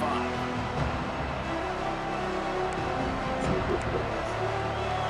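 Dense, steady roar of a stadium crowd in a college football video game featuring Oregon, a continuous wash of noise filling the whole clip without a break.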